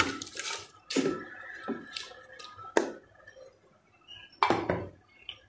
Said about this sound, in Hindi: अब इसे मिक्स कर लेंगे।